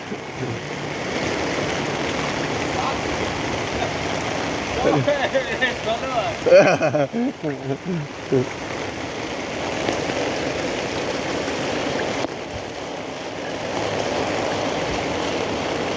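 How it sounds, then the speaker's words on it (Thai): Steady rain pouring down in a rural Thai village setting, a continuous hiss of drops on surfaces throughout, with someone talking over it midway and a brief rumble of movement. "ฝนตกครับฝนตก"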